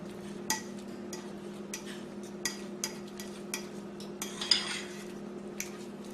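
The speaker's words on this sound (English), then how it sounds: "your fork and press the egg against the bottom of the bowl" A fork presses and mashes cooked egg yolks against the flat bottom of a bowl for deviled eggs, making a series of light, close clinks and scrapes at an uneven pace over a steady low hum.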